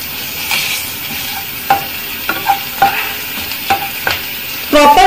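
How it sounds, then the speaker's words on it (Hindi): Ginger and garlic browning in hot oil for lemon chicken give a loud, close sizzle broken by sharp spatula scrapes and stirring knocks, ending in a louder burst of crackling; no one speaks. "अदरक और लहसुन आप देखेंगे थोड़ा थोड़ा ब्राउन होना स्टार्ट हो गया है।"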